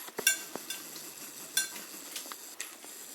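Carib chicken seasoning is stirred into raw chicken in a bowl, with soft, close scraping and light clinks of a spoon in an irregular rhythm and no talking.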